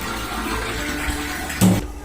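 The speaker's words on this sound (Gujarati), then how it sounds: "1 ગ્લાસ પાણી વધારે નાખી દીધું છે આપણે" Water poured from a glass into a pot of very sour buttermilk curry for a gathiya vegetable dish makes a brief splash near the end, after a low, steady kitchen hum.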